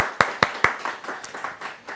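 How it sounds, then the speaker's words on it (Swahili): Studio audience clapping at the start of a live talk show, a few sharp separate claps followed by lighter scattered clapping that fades, close and fairly loud. "Haya basi makofi za kilo tukianza"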